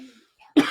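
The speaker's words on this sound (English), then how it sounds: "That's just a throat cough." A single sharp cough with throat clearing, close and loud, after a short quiet pause.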